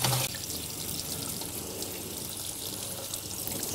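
Cold tap water runs steadily over a whole lobster in a sink, a continuous close rushing splash that holds evenly throughout with no speech.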